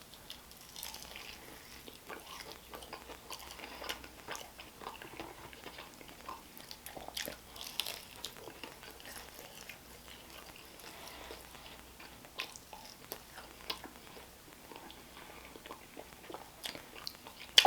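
Someone bites and chews crunchy air-fried orange pepper chicken close to the microphone, with soft irregular crunches and wet mastication spread over a quiet background and a louder crunch at the very end.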